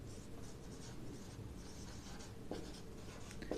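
Marker or chalk writing on a board during a physics lesson, a continuous faint scratchy stroking with a couple of brief sharper taps, close and steady with no talk.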